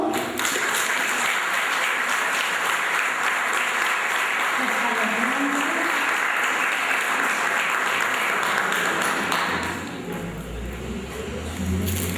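Sustained, loud applause from the audience at a Methodist church forum on euthanasia, thanking five speakers, continuous for about ten seconds before fading into murmuring voices.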